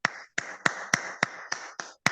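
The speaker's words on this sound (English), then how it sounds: "A round of applause to the team." Applause for a team in a class session: roughly eight sharp, evenly spaced claps or snaps over about two seconds, close and fairly quiet, with no voices.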